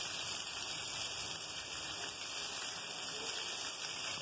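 Steady heavy rain pours at night along the AL-220 highway in Alagoas, a dense, even hiss with no breaks and no voices.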